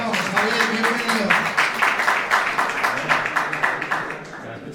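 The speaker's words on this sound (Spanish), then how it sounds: "fuerte el aplauso ahora sí para Javier de Olas" Audience applause for a panel speaker at an entrepreneurship event in Segovia: dense, evenly pulsing clapping from a crowd, loud and sustained, easing off slightly toward the end.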